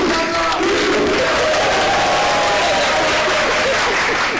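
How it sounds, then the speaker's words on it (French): A studio audience on a Burkina Faso talk show breaks into sustained applause mixed with crowd cheering and whoops, a dense, steady roar lasting the full stretch. "On va l'applaudir."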